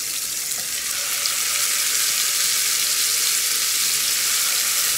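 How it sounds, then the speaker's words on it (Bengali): Marinated peri peri chicken coated with yogurt and spices fries in a pan with a steady, loud, close sizzle that stays even throughout, with no talk. "এই তো চিকেনটা এখন ভাজতে চলে আসলাম।"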